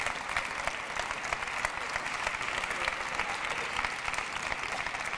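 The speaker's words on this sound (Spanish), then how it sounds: "Quédate conmigo un segundo, vamos a aplaudirle" Audience at a housing-market conference applauding after a talk, with steady, dense clapping from a crowd lasting throughout, even and moderately loud.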